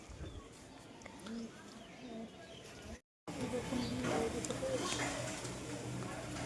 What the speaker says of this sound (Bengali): এই হচ্ছে পাঞ্জাবি কবুতরের বাচ্চা